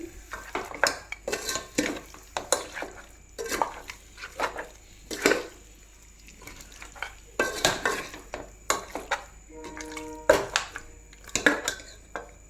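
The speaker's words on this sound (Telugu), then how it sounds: "చూడండి ఇలా కలిపేసి ఈ ఆయిల్లో మన మటన్ కొంచెం వేగాలి" Mutton pieces being stirred and fried in oil for a mutton curry, with repeated close scraping and clinking of a spoon against the pan over a low background hum.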